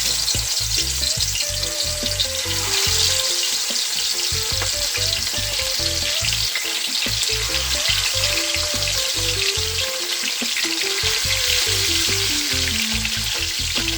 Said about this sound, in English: I'm gonna start adding my turkey wings to fry them